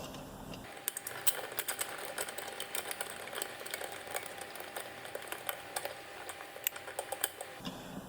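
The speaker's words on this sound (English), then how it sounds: "So this bolt we can tighten up." Bolt being tightened on a VW O2J gearbox during reassembly for a 1.8T 20v build: a run of quick, close mechanical clicks and ratcheting ticks, steady and fairly faint, with no talking.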